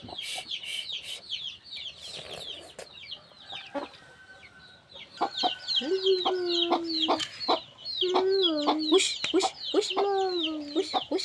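Chickens cluck and call repeatedly, close and loud, with rapid chattering notes and longer tonal squawks overlapping through the stretch, alone without talk.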